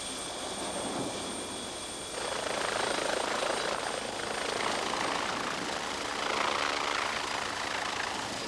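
A helicopter arriving at an isolated lighthouse, its rotor and engine a continuous loud roar that swells and holds steady throughout.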